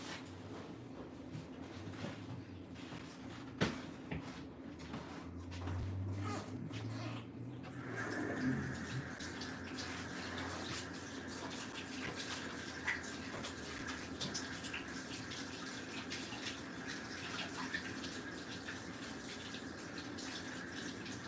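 Water running from a kitchen tap for hand washing: a quiet room first, then a steady gush that starts partway in and continues evenly until the end.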